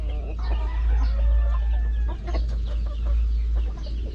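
Rhode Island Red hens clucking in short, scattered calls over a steady low hum, with a few brief squawks; close by, no talking.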